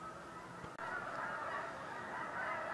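Geese honk steadily and loudly at close range, a dense continuous chorus of calls with a brief dip partway through and no talking.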